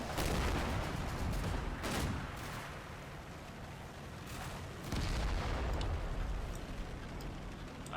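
Rifle and machine gun fire crackles and rumbles without pause, with heavier bursts swelling at the start and again midway, like a steady exchange of shots at middle distance.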